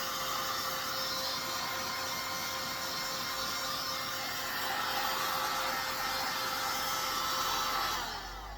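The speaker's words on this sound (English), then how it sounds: "so that's a good place to stop for now with the heat gun." A heat gun blows steadily while drying dye on a turned wood ornament, a continuous broadband whoosh that holds nearly constant and then tapers off at the very end.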